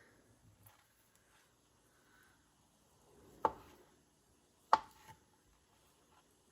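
Cold butter is chopped into flour for blueberry scones, giving two soft, separate thuds a little over a second apart in an otherwise quiet kitchen, with no talking.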